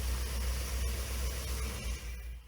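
A Chevy 350 small-block V8 with throttle body injection (TBI) idles steadily, a low continuous rumble with an even, faint rhythm and no ticking, heard close up with no talking.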